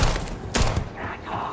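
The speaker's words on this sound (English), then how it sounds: "You heard gunshots." A short burst of gunfire in the Starfield video game, a few sharp loud cracks close together, with a clustered volley in the middle over low background game sound.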